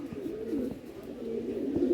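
Madrasi pigeons in a loft give low, rolling coos, several overlapping in a steady murmur with soft bursts, close by and fairly quiet, with no voices.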